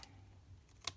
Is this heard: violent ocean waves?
no